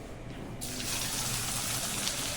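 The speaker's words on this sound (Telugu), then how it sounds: "ఇప్పుడు మనం ఆయిల్ అయితే పోసుకుందాం" Cooking oil pours into a kadai pan for an egg curry, a close, steady liquid stream that begins about half a second in and runs to the end.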